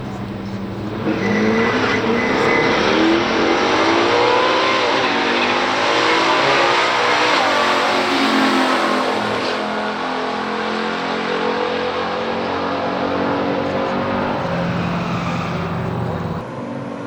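A 1966 Chevrolet Chevelle and a 1969 Chevrolet Nova in a stock drag race. Loud engines roar and rev hard from the launch, with rising pitch as they accelerate down the track, then ease off toward the end.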